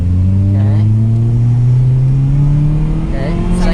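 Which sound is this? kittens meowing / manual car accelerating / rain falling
manual car accelerating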